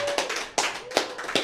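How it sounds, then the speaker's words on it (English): A few hands clapping and tapping in a small podcast room, four sharp, distinct claps spaced unevenly and close, with a faint background tone between them. "I gotta start the applause."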